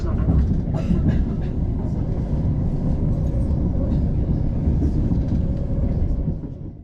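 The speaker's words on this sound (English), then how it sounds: "Welcome aboard the Southern service to Portsmouth Harbour and Bognor Regis" A Southern passenger train runs steadily towards Three Bridges on a London to South Coast service, heard from inside the carriage as a continuous low rumble with faint clicks from the track.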